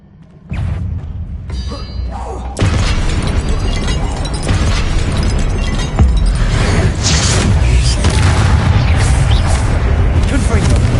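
Confringo blasting spell cast in the game Hogwarts Legacy, a loud booming burst that kicks in abruptly and rolls into a sustained, thick rumbling roar that keeps building rather than fading.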